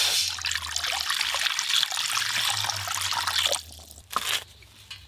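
Water trickles and splashes steadily in a home kitchen while jute leaf lentil dal is being prepared alongside a fish curry, then stops briefly before a short final splash.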